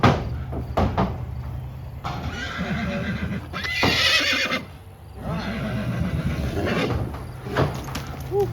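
A newly arrived gelding whinnies loudly up close, mixed with clip-clopping hooves and knocks like a stall door on a horse homestead; the neigh rises clearly mid-clip among steady shuffling and thuds.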